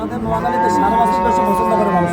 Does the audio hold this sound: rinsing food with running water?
no